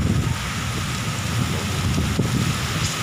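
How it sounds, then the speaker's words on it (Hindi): Heavy rain pours steadily with gusting wind during a storm in Udaipur, India, a dense, continuous roar of drops close by with no voices. "तो ये कड़िया की बरसात है"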